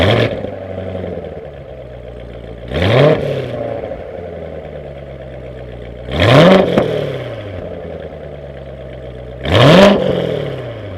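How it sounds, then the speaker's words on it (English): 2017 Chevrolet Corvette Z06 exhaust revved three times at standstill, each blip rising sharply in pitch and falling back to a rumbling idle, close and loud with no talking. "Let's take a listen to the exhaust one last time before ending this review."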